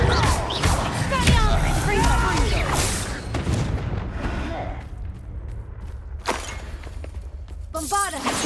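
Bombarda spell explosions in the Hogwarts Legacy game, heavy booms and shattering blasts over game music and effects, with a spell shout heard as a voice calls out, loud and close.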